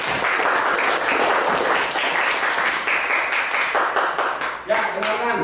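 A classroom group claps together before a student group presents its discussion results, a dense burst of many hands that thins out near the end, where a voice begins speaking.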